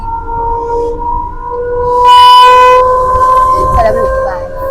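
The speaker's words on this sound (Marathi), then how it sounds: "आता आम्ही ट्रेन मध्ये आहोत. आसनगावची ट्रेन पकडलेली आहे." Inside a moving local train bound for Asangaon, a steady low rumble and droning tones fill the carriage, rising into a loud harmonic horn-like blare for about a second before easing back to the running noise.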